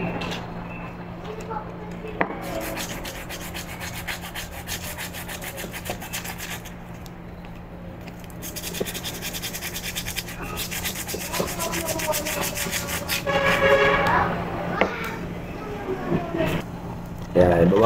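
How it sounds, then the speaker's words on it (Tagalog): Steady rasping and scraping as the metal rods of an old electric bike dynamo motor are sanded and cleaned by hand. The rubbing comes in continuous strokes close by, growing louder near the end, with a voice talking at times. "Linisin at lihain."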